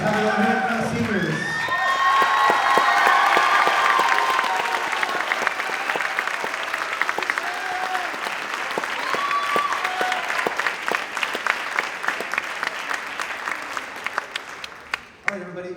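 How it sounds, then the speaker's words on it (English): An audience at a high school band awards ceremony breaks into sustained applause and cheering for the band seniors, loud at first and then tapering into scattered claps and whoops. "Let's have a round of applause, seniors."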